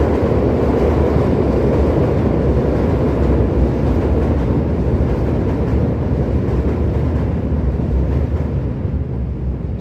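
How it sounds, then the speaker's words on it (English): A freight train passing close by in Chicago at night roars as a loud, constant rumble of wheels and wagons, filling the whole stretch without letup and with no voices. "Sounds like a freight train's coming right through our house."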